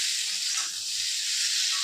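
Potatoes frying in a pan give off a steady, close hiss and sizzle that holds evenly for about two seconds with no voices over it.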